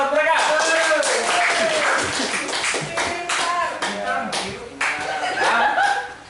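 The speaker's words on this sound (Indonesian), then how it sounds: "Tepuk tangan buat mereka." Students in a classroom applaud a student group with a burst of dense clapping mixed with chatter and light laughter. The clapping comes close and loud, then thins into scattered claps under talk.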